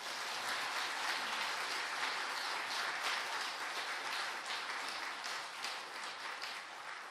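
A church congregation applauds in welcome of a visiting missionary from Seoul, a dense, steady wash of many hands clapping that fills the whole stretch at moderate level, with no speech over it.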